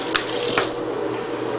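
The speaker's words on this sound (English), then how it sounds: "I'm going to put a little bit of water into the kit here" Water runs and splashes from a tap into a small container, a steady close gush with a couple of brief splashy bursts at the start, while preparing water for a syringe with a MIC-KEY gastrostomy feeding tube kit.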